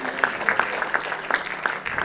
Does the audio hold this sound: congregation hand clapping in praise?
yes